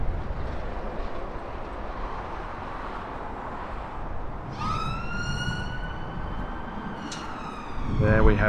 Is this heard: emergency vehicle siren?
yes